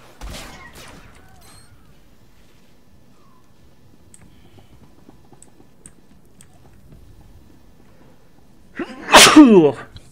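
One loud, sharp sneeze right at the microphone near the end, after a long stretch of near silence and a few faint clicks.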